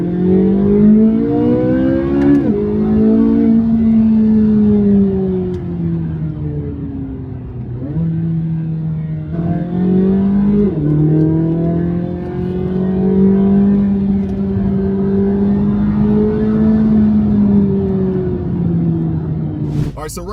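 A Chevrolet Corvette C8 Z06 supercar engine revs hard and loud, its pitch climbing and falling through repeated surges and gear changes across the whole stretch, close by with no talk over it.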